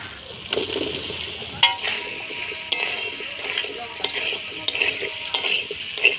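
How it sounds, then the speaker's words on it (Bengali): Boiled potatoes being stirred with spices in a hot pan for a paneer dish, with steady sizzling, scraping spoon strokes and sharp clinks close up, and no talking. "আলুটা মশলার সাথে ভালো করে নাড়াচাড়া করে নিলাম"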